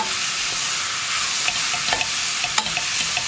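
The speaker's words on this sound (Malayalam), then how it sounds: "ഇത്രയും ചേർത്തിട്ട് നന്നായിട്ടൊന്ന് ഇളക്കി മിക്സ് ചെയ്യാം." Spices are stirred into chicken korma in a pressure cooker over a low flame, with a steady sizzle of frying and occasional scraping taps of the spoon, close and continuous with no talking.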